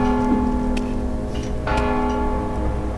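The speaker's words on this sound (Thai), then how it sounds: "โอ้เสียงโคตรดังระฆัง" A loud bell rings out in the stealth video game Mark of the Ninja, sustaining a clear resonant tone that fades slowly, with a second bright strike near the middle ringing over the first.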